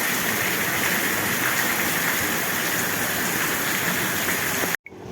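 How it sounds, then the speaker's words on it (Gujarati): Heavy rain pours down steadily in a village, a dense, even roar of falling water close by that continues unbroken before cutting off abruptly at the end. "ફાઇનલી તમે જોઈ શકો છો અત્યારે જો વરસાદ સારી પેટનો આવે છે"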